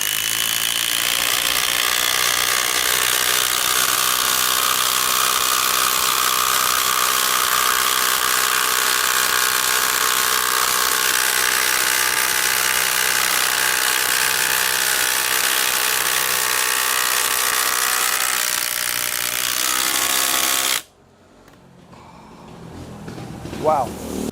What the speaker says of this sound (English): there's one thing I've learned about HiKOKI triple hammer impact drivers. They do some weird shit with big screws and stainless screws.